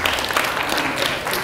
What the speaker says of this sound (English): You can make a clap